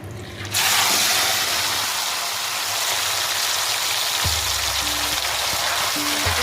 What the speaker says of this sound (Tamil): நம்ம வந்து சிக்கன் மேரினேட் பண்ணி சிக்கனை போட்டுருவோம்